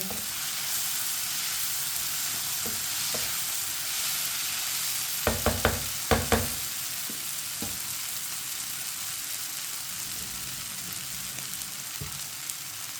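Tomatoes fry in a pan for stuffed karela with a steady, even sizzle throughout, and a few sharp clinks of a spoon stirring against the pan come through midway.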